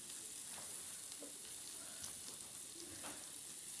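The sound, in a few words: chopped onion frying in oil in a wok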